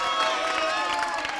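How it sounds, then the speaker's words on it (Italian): Children at a summer youth program cheer and clap for a boy, a brief burst of high, excited voices and scattered applause that sounds somewhat distant. "Ragazzi, applauso per Gabriele"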